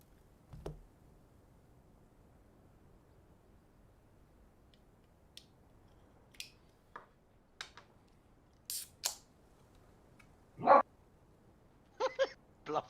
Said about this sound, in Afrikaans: Blafte hond.